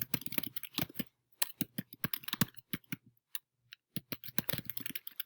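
Keys clatter on a computer keyboard in quick, uneven bursts with short pauses, close and fairly quiet, while someone types out text into an Excel spreadsheet.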